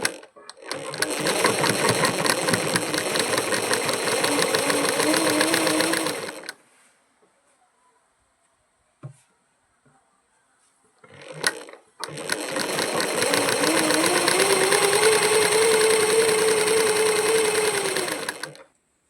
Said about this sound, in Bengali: সেলাই মুখটাকে এইভাবে চেপে এর উপর সেলাই করব